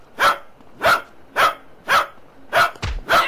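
A dog barks in GTA San Andreas, six sharp, evenly spaced barks close and loud, with a brief low thud near the end.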